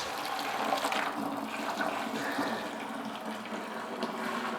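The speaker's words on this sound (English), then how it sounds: "So we're gonna pour this in. This is our must." Mead must made with dark avocado blossom honey is poured into a Catalyst fermenter, a steady close splashing gush of thick liquid running for several seconds without talking.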